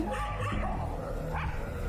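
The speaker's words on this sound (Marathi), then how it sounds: "अगं बाई, कुत्री का भुंकतायत आज इतकी?" Several dogs bark and yip close by in a busy, overlapping burst.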